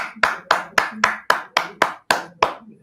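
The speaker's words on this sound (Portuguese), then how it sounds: "aplauso para os alunos" Applause from an audience honoring students at a school event on artificial intelligence in education, heard as about ten sharp, evenly spaced claps roughly every quarter second, close and crisp with no talking over them.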